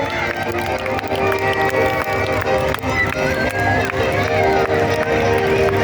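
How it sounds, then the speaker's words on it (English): Crowd at a steam rally shouting, screaming and cheering on cue, a dense sustained roar with tonal voices throughout, steady and loud for the whole stretch alongside music. "let's scream and shout and cheer"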